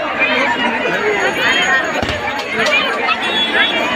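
A large, dense crowd gathered for a Ravan effigy at a Durga Puja festival in Matihani, a steady roar of overlapping voices and bustle, close and loud, with someone speaking over it.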